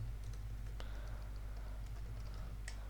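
A computer keyboard is typed on while an email address is entered into a web form, giving quick, light key clicks in a short burst over a steady low electrical hum.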